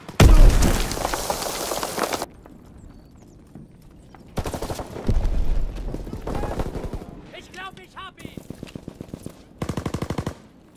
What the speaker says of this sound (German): Schmeiß eine Granate!